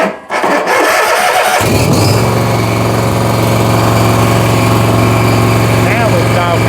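A Bobcat zero turn mower with electrical problems cranks briefly, then its engine catches and settles into a loud, steady idle that keeps running close by, with a voice speaking over it at times.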